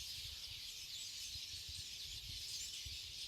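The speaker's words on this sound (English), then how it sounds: "Behind me you can hear hundreds of birds chirping away on a sunny day" A dense chorus of hundreds of birds chirping outdoors on a sunny day forms a steady, continuous wash of high twittering with no breaks and no voices.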